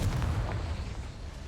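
A fiery Confringo spell explosion in the game Hogwarts Legacy, a single deep boom that rumbles at the start and decays over about a second.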